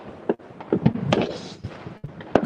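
Scattered New Year's Eve fireworks pop and bang in Spain, a handful of sharp reports at uneven intervals over a crackling background, without voices.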